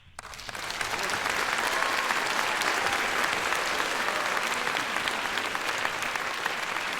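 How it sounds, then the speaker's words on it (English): A crowd's applause rises quickly and holds as a steady, dense wash of clapping, loud and sustained throughout, with no one speaking over it. "apparently there's people behind us applauding"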